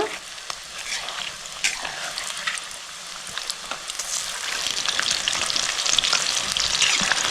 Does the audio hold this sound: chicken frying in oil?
yes